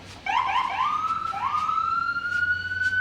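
An emergency siren wails in a smoky Pacific Northwest wildfire setting, rising in repeated sweeping yelps then settling into one long steady tone, moderately distant and clear over low background hum, with no talk.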